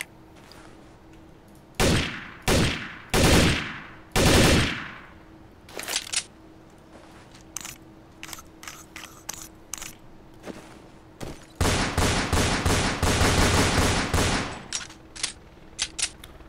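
Unsilenced gunfire in Counter-Strike: several loud single shots with ringing tails, then scattered shorter shots and clicks, then a rapid burst of automatic fire, with mechanical clatter of magazines dropping between, all close and without talk.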